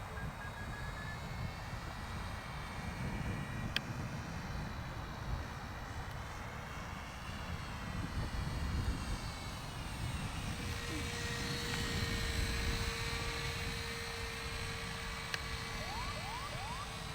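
An upgraded Tony Ray kit SE5A model plane flies overhead, its small engine buzzing steadily and shifting in pitch as it passes, heard at a distance over breezy outdoor background.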